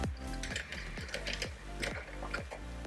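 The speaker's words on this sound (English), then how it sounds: "it's just held in with thumb screws. So I just loosen those off because they're tight from the factory" Thumb screws are loosened on a Corsair Carbide 400c PC case, making a close, repeated ratcheting click with regular creaks and scrapes roughly every half second.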